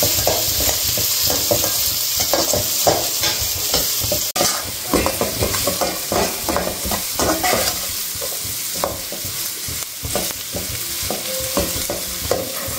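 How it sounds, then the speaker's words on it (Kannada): Onion, curry leaves and chillies crackle in hot oil for a spiced tempering. A loud, continuous sizzle carries busy, irregular scraping and clatter from stirring the whole way through. "ಸೊ ಈ ಮಸಾಲೆ ಹಾಕ್ಕೊಂಡು ಸ್ವಲ್ಪ ಫ್ರೈ ಮಾಡ್ಕೊಳ್ಳೋಣ ಒಗ್ಗರಣೆಗೆ"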